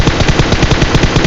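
Rapid machine-gun fire from the PUBG video game, with dense, evenly spaced bursts packed into a loud, continuous volley that fills the whole stretch without any voices.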